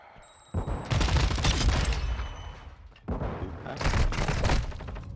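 Loud bursts of rapid automatic gunfire in the video game Modern Warfare 2, two long volleys separated by a brief lull, dense and close.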